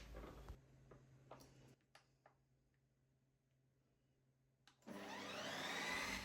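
A Ninja Creami machine starts processing sorbet, a loud whirring motor spinning up near the end after a few quiet clicks and button taps.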